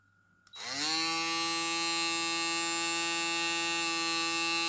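A Ufree U-1668 electric shaver switches on after a brief quiet moment and settles into a loud, steady, high-pitched motor whine that holds without a break until the end.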